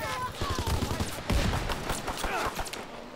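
Shotgun fire in a video game: repeated sharp blasts come in quick succession at moderate loudness over busy game noise, with voices speaking underneath.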